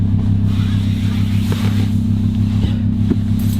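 A stage 1 tuned Lamborghini Gallardo LP560 idles with a deep, throbbing burble that stays steady and close, with small blips and clicks as it prepares to pull away.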